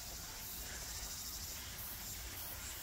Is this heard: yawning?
no